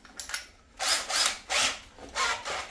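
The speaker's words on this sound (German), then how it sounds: "in was für einer Affengeschwindigkeit ich das hier jetzt bohre" A cordless drill with a 10 mm bit bores through metal in repeated short whirring bursts with brief pauses between them, loud and close, with no voices.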